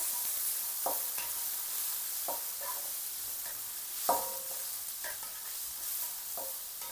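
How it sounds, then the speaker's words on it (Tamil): Onion mixture sautéing in a pan, stirred now and then: a continuous low sizzle broken by periodic scraping strokes of a spoon, one slightly louder knock midway, no talking. "இந்த கலந்து கொஞ்சம் வதக்கி விட்டு கொள்ளுவோம்"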